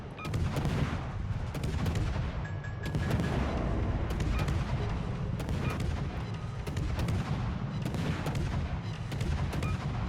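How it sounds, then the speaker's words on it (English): In World of Warships, a low-health T10 Pan-Asian destroyer, the Lushun, takes heavy incoming fire: loud, rapid bursts of booming gunshots and artillery blasts pile up almost continuously, with brief lulls between volleys. "A lot of people are shooting me right now."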